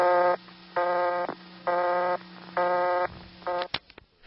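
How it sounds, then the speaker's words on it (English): An old Bell System busy signal from a small rural community dial office, steady two-tone bursts repeating about four times in an even on-off rhythm, clear and loud, cut short by a click. "Next is the busy signal."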